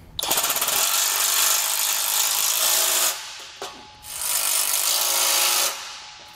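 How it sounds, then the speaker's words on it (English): An impact-style wrench and socket tighten lock nuts on a trailer frame, giving two long, loud bursts of harsh rattling buzz close by, separated by a brief pause. "now we'll just grab our wrench and socket and tighten it down"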